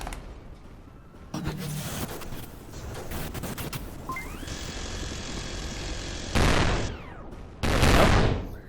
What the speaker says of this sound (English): This is why I like the minigun.